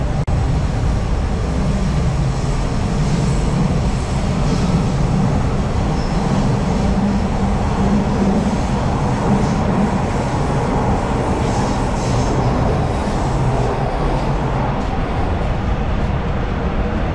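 A Toronto TTC subway train pulls into Sherburne Station, a loud continuous rumble of wheels and motors that holds steady and close throughout, with no voices.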